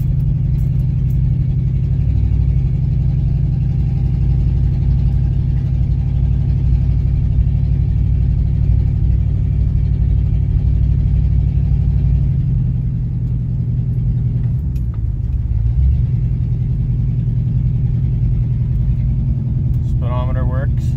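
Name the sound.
Oldsmobile car engine running during test drive with new transmission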